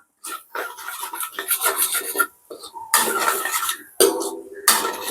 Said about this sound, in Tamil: இப்போ வந்து அதை வடிவாக கிண்டி கொள்ளுவோம்